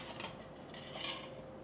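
A stainless steel camping coffee percolator lid lifts off with a brief, quiet metallic clink and scrape, heard alone.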